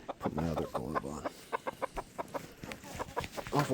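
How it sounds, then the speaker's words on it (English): A silkie rooster clucks and chatters up close in quick, repeated bursts, a continuous run of short calls in a quiet barnyard. "Awful chatty there, rooster."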